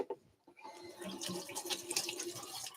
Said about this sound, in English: it's just a simple matter of rinsing it